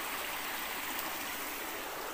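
A stream where people wash their clothes runs as a steady broadband wash of flowing water, even and unbroken, with no voices.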